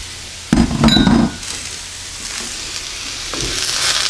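Half a white onion and a whole red pepper fry in a pan over medium heat, a short burst of sizzle and clinking from about half a second to just past one second, then fading to a quiet steady hiss.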